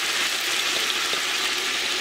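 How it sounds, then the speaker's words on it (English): Carrots, onions and celery sizzle in bacon fat in a pot for Irish beef stew, producing a steady, close frying hiss that carries through the whole moment. "it's been seared in the bacon fat. And now we're going to add the carrots, onions,"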